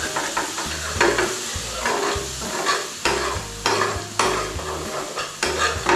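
Base gravy stirred into mango chicken curry in a hot pan: repeated scraping strokes of a utensil against the pan bottom in a rough rhythm over a constant sizzle.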